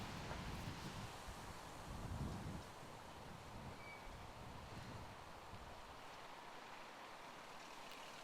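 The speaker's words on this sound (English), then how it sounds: "the wind's really starting to pick up here." Wind gusting across an open disc golf course, a broad steady rush with low buffeting on the microphone that swells in the first few seconds and then holds at a constant level.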